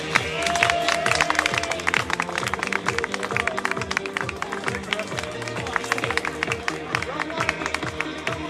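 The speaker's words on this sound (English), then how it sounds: "Let's hear you clap for these guys." An audience claps and cheers at a demonstration event, continuous crowd applause with a rhythmic beat and voices mixed in throughout.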